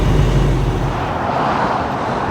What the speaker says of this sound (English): I don't know if you can hear me over that traffic down here on the interstate